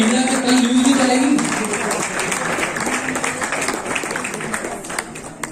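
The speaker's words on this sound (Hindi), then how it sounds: "जोरदार तालियों के साथ स्वागत।" Applause from an audience at a Navodaya (JNV) alumni meet in Delhi, a steady dense clapping that swells early and then tapers slightly, mixed with crowd noise and a voice over a loudspeaker.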